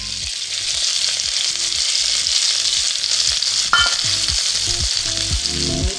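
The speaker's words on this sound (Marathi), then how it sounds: "वांग्याच्या भाजीसाठी तेल घेऊया मोहरी टाकत आहे लसूण सांबाराचा गोळा टाकत आहे" Mustard seeds and garlic fry in hot oil for brinjal curry, a loud, close, steady sizzle with light stirring scrapes and a sharp crackle partway through, under a low rumble.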